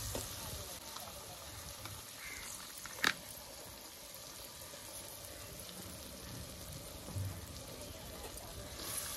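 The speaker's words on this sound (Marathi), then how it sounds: "मसाला चांगला आपल्याला परतून घ्यायचा आहे." Ground masala paste frying in a pan for a big prawn curry, a soft continuous sizzle with faint crackles and a couple of brief stirring knocks, fairly quiet and steady throughout.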